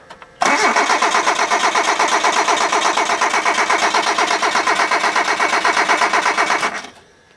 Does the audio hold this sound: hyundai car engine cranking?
yes